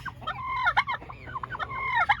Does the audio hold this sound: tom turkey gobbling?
yes